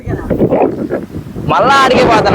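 Outdoors, wind blows into the microphone as rough, gusty buffeting that swells loudly in the latter half, following a man's close speech.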